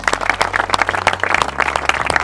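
An audience at a French ceremony marking 50 years of small heritage towns applauds, with a burst of close, uneven hand claps over a low hum, fairly loud and sustained.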